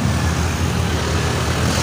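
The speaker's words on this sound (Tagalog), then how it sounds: "dami sasakyan dito." Steady roar of many cars, trucks and buses passing on a busy road beside a church in Pasig, a dense continuous rumble with no gaps or voices.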